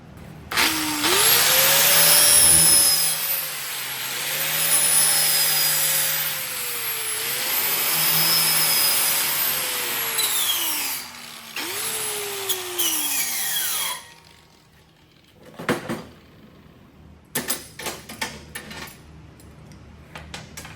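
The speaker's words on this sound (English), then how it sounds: "Using your sanding disc, take and smooth out and deburr these rough edges" A power sanding disc whines loudly while deburring cut metal fork edges for several seconds, pitch dipping as pressure changes, then stops, leaving scattered clanks and handling noises.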